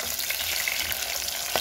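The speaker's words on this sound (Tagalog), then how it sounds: "inuna ko siyang gisahin ang luya" Ginger sautéing in a hot pan for arroz caldo gives a steady, close sizzle and crackle with a few light stirring scrapes, with no voices.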